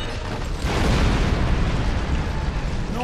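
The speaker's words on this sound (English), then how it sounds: "Detonating charges." Explosive charges detonate in the Star Trek Online video game, a loud, sustained booming blast that swells after a brief lead-in and rumbles on for a few seconds, with no talking.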